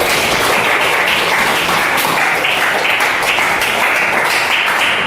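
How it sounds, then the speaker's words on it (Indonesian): A school class applauds together at the end of a lesson, steady dense clapping held loud and unbroken from start to finish. "kita kasih aplaus dulu buat kelas kita"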